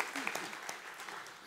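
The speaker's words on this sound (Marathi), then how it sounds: "जोरदार टाळ्या होऊ देत त्यांच्यासाठी" An audience at a Marathi book launch claps, a faint patter of applause rising and fading, with a voice speaking over it.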